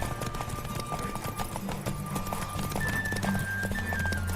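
Horse hooves gallop in a steady, rapid clip-clop rhythm in Witcher 3, close and continuous beneath in-game music and tones, with a faint whinny.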